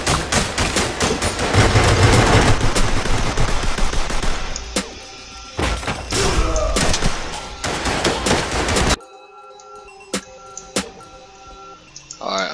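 A breaching shotgun blasts open a locked door in the Ready Or Not tactical shooter, followed by a rapid run of loud gunshots and sharp bangs, then a quieter stretch with scattered clicks and shots.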